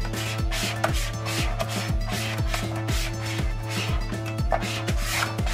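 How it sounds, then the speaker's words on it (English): Vinyl decal pressed onto a surface with a squeegee: rhythmic rubbing, scraping strokes about twice per second, close and steady, with no voices. "So I'm going to go ahead and squeegee it to the surface."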